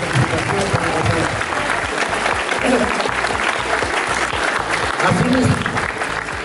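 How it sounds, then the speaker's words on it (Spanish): Audience applause at a school sports awards ceremony, loud sustained clapping from a crowd close by, steady for several seconds. "Por favor, el aplauso y la felicitación para Rafael"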